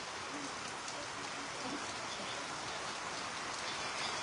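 Heavy rain pours down on a village as a steady, even hiss of drops that carries on without pause and without other sounds.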